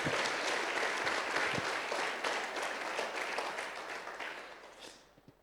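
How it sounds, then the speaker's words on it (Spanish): A church congregation at a Christian workshop service applauds in a thick, continuous burst of clapping that holds steady for several seconds before tapering off quickly at the end. "Aplaude el nombre del Señor."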